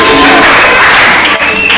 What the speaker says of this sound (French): S'il te plaît, applaudissez.